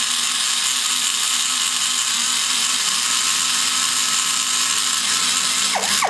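A rotary power tool fitted with a rounded bit trims the combustion chamber of a Holder HO 305 cylinder head, giving a loud, steady, continuous high whine with no break and no talking.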